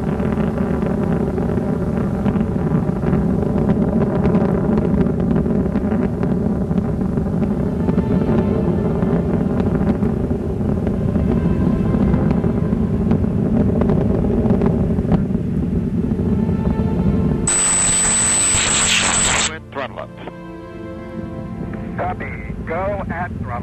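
Space Shuttle Discovery's three liquid-fueled main engines at full throttle during launch, a loud continuous roar that holds steady, then cuts to a brief high tone before quieter noise.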